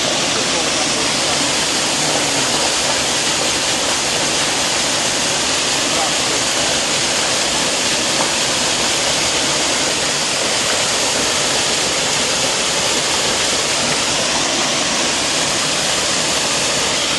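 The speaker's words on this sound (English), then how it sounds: "So the water run on one side." Water runs steadily to one side during jackfruit processing, a loud, continuous broadband rush like a waterfall or stream that holds unbroken for the whole stretch, with no voices over it.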